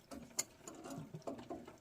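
Wrench working a nut loose on the intake of a 1974 Chevrolet Blazer K5, quiet intermittent metallic clicks and ratcheting in short bursts, close by and faint.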